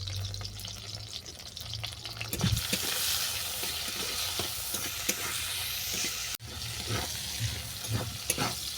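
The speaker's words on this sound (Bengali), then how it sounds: "ইলিশ মাছের মাথা আমার হালকা করে ভাজা হয়ে গেছে" A hilsa fish head fries in hot oil, a steady crackling sizzle with occasional stirring clinks and scrapes, close and alone with no talking.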